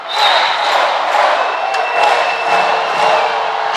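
An arena crowd cheers steadily at a men's college volleyball match between Hawaii and Loyola Chicago at UH Mānoa as a serve for match point approaches. It is a dense, loud, sustained roar of many voices with scattered louder shouts.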